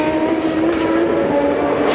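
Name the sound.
race car coming into pit lane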